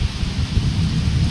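Heavy rain pours down over a village with a low thundery rumble, a dense steady roar from start to finish with no voices.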